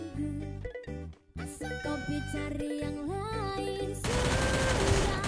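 Gunfire in the Free Fire shooting game sounds as rapid bursts of shots layered over music and game effects, dense and loud, ending in a harsher noisy stretch.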